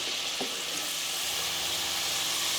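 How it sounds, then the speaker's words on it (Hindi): Coated fries, spiced KFC-style potato strips, deep-frying in hot oil with a steady, loud broadband sizzle that fills the whole moment, plus one faint clink near the start. "अब हम इसे सिर्फ 2 मिनट तक फ्राई करेंगे मज़ीद और इनको निकाल लेंगे।"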